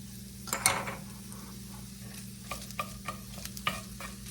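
Crumbled sausage and minced onion frying in a pan, a soft continuous sizzle under a low hum, with a few louder clinks and scrapes of a utensil stirring, close up and without speech.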